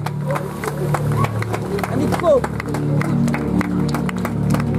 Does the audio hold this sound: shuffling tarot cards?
no